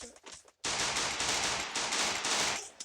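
Video game gunfire breaks out after a short, quieter lead-in and becomes a loud, dense burst of rapid automatic shots that continues steadily, sounding close and sharp.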